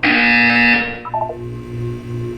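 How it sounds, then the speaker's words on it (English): A harsh electronic buzzer blares loudly for about a second in the video game Portal 2, followed by a few short tonal chirps and a low background hum. "You will hear a buzzer."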